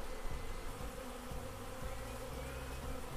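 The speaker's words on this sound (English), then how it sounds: "just how many bees are on that alone" Dense, steady buzzing of many honey bees close by on a hive frame, continuous for several seconds with no voices.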